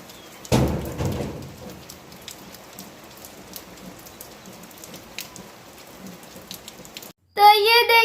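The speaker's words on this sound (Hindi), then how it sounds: "बाहर बारिश स्टार्ट हो गई है" Rain falling outside as a faint, steady patter, with a louder burst of sound early on and a brief voice near the end.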